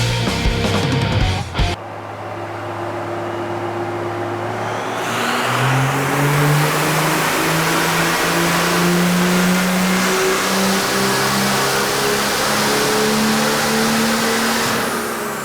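A diesel truck engine revs hard at a diesel power challenge event, rising from idle into a loud, sustained roar with climbing pitch, close and alone.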